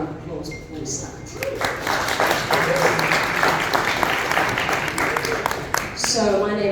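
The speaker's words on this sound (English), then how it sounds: "I'd actually like for you to please give everybody a round of applause before we start." An audience at a book launch gives a round of applause, a steady wash of clapping heard with some voices and whoops rising over it.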